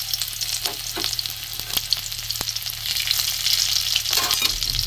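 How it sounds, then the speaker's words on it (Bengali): Chopped garlic fries in hot oil with a bright, steady sizzle that grows fuller toward the end, punctuated by a few sharp taps of a spoon against the pan. "রসুনটা একটু ভাজা হোক"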